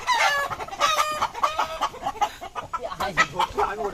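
A chicken clucks and squawks loudly and repeatedly in agitated bursts while people scramble close by trying to catch it.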